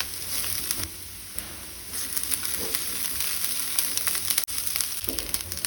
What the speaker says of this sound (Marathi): कांदो असो बरो भाजून घेवपाक जाय।